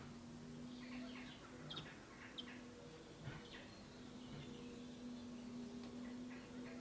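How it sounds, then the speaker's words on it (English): Birdsong drifting in through open windows during an indoor home yoga class: scattered chirps and short tweets, faint and distant, over a steady low room hum. "We're filming today with the windows open, so there will be birdsong outside."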